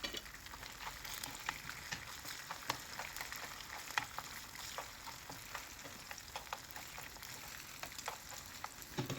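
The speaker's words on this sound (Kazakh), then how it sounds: "пиязымызды, капустамызды салып қуыратын боламыз" Chopped onion and Chinese cabbage frying in hot oil for fried lagman, a steady close crackling sizzle with scattered sharp pops and stirring scrapes, no voices.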